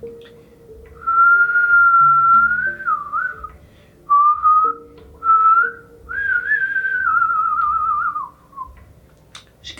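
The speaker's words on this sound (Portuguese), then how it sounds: "Será que eu ainda sei assobiar?" A lone person whistling a slow, wavering tune close up, several sustained notes with short gaps between phrases, clear and fairly loud over a quiet background.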